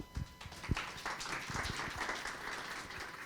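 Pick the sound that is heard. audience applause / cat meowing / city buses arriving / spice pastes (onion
audience applause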